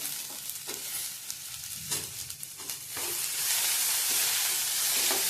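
Chopped onion and tomato frying in a pan for a Malvani-style prawn curry, a steady close sizzle with stirring scrapes, growing louder and denser in the last seconds.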